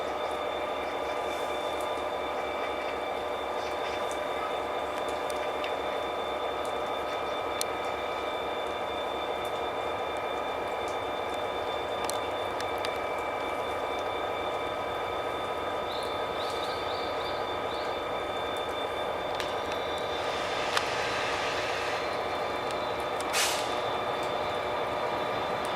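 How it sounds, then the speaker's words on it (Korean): A Mugunghwa train draws into Cheonan station, a faint, steady low rumble of rolling stock held under the platform ambience, with a few brief clanks and squeals toward the end. "가는 무궁화 1558 열차 들어오겠습니다."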